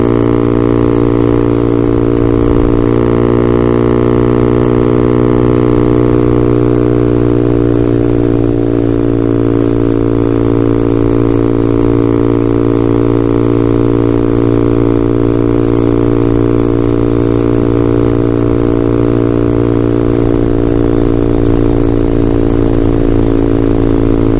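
Vader ZS190 Honda Grom clone motorcycle engine droning loud and steady throughout a ride, a constant harmonic hum that shifts pitch slightly as the revs change, close and continuous.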